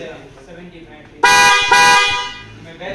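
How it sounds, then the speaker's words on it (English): Two loud, close blasts of a bright, buzzy electronic car horn, the second following quickly after the first, over quiet background noise. "This is the best selling and most expensive horn also we have."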